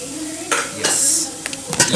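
Onion frying in a pan while a metal spoon stirs it, giving sharp scraping clanks against the pan with a faint sizzle underneath, several distinct strokes over a couple of seconds.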